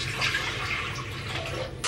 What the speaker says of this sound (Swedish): då börjar vi med att dunka i 3 liter vatten i grytan här